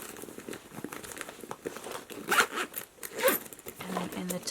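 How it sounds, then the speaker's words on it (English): A travel bag holding makeup is zipped shut at close range, with several quick rasping zipper strokes mixed with fabric crinkling and rustling as the bag is handled. "let me zip this up first"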